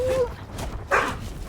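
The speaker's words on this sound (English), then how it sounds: "That's a playful bark." A playful dog bark in Diablo IV: Vessel of Hatred, a couple of short, bright yips close by, the second sharper and louder, over low in-game background noise.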